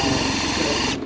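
A power drill runs steadily during an EasyFit isolator installation, a close, continuous mechanical whir that cuts off abruptly at the end.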